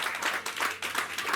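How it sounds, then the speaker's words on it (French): A church congregation claps and cheers in a burst of applause, a dense rippling wash of hands that swells and dips for a moment, fairly close, with no speech over it. "Est-ce qu'on peut acclamer la parole de Dieu?"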